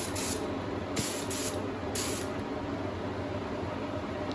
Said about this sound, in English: the candy paint's going into the gun. So you can see, just applying a little bit of a mist to start with